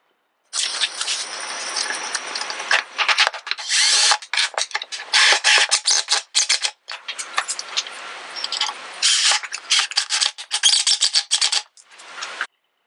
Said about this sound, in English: all I need to do is put in 2 screws approximately where I want them to wrap the string around